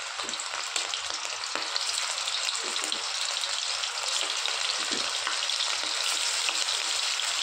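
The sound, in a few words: chicken balls frying in hot oil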